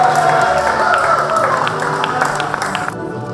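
Indoor audience at a rural training awards night claps together in a dense, steady patter that fades off near the end, with some crowd murmur underneath.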